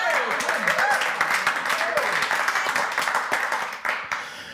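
An audience at Cowork Chilliwack applauds the team, a brisk round of mixed clapping with voices underneath that thins out toward the end.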